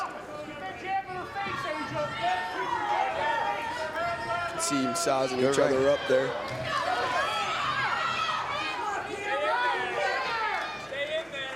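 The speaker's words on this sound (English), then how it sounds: "Crowd's getting involved a little bit. It's good to hear." A boxing event crowd murmurs and cheers in the background, a diffuse hubbub of chatter and shouts rising briefly, while commentators talk prominently over it.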